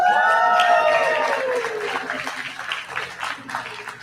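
A wellness-conference audience claps as auto-tuned singing fades out, the clapping swelling into a steady, moderately loud patter that lasts to the end with some voices mixed in.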